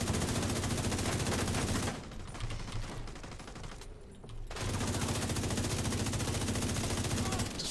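Sustained automatic gunfire in the shooter game The Division 2, loud and continuous, briefly thinning to a quieter stretch before the heavy shooting resumes, with no talk over it.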